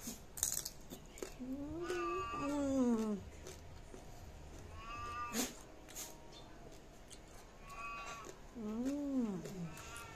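A cat meows several times in drawn-out, rising-and-falling cries at a lechon restaurant in Manila, Philippines, spaced apart over a quiet background with faint clatter.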